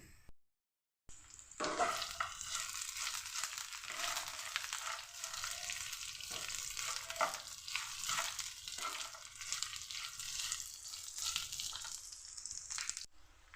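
Cumin, mustard seeds and urad dal fry in hot oil in a home kitchen, a loud continuous crackling sizzle that starts abruptly after a brief silence and runs steadily, with occasional stirring scrapes.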